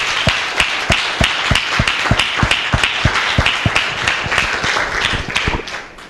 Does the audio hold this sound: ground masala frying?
no